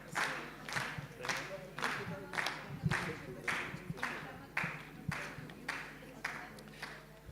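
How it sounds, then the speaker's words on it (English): An audience at a forum claps in steady rhythmic bursts, roughly one strong beat per second, for a group photo. The sound is close and fairly loud, and murmured voices sit underneath. "Continue clapping until we finish the photos."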